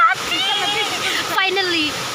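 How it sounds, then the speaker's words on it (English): Mawsawa Falls in Sohra roars as a constant, loud rush of falling water close by, while people talk and exclaim over it. "Finally, here we are in this waterfall."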